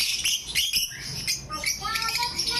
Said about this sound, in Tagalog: napakaganda ng mga ibon